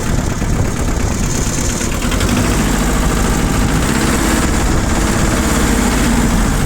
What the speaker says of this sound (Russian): Отлично набирает обороты, отлично отзывается на газ.